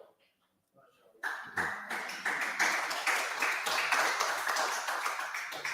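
An audience applauds: after a near-silent moment, a burst of steady, dense clapping starts and keeps going for several seconds at an even level.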